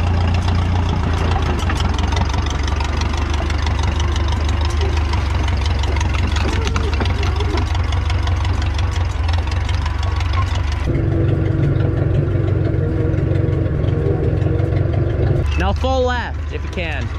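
A grandfather's 1957 Case 310 Terratrac crawler loader runs with a steady, continuous low engine drone throughout, loud and close, shifting to a slightly different tone partway through, with voices talking over it.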